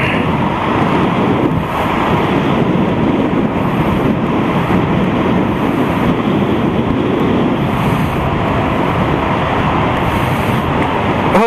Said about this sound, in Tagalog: Ang lakas ang hangin, grabe,